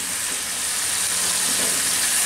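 Peeled new potatoes frying in hot oil in a pan for a rui fish curry, giving a steady, loud sizzle and hiss throughout with no talking.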